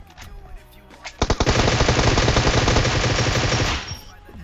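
Rapid automatic gunfire from a shooter video game: a few sharp opening shots, then a loud, sustained burst of fast repeated firing lasting a couple of seconds before cutting off, with faint voices in the background.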